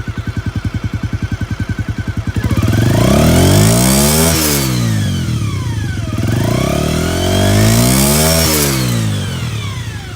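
A 1997 Honda Dream 50 (AC15) motorcycle, heard from the exhaust, idles with a rapid low putter, then revs up loudly twice, each rev climbing to a high roar and falling away.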